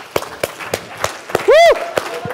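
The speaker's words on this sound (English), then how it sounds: "let's give a round of applause for Max" Scattered audience claps ring out in a loose, rhythmic series for Max, with a single bright whooping cheer breaking through midway.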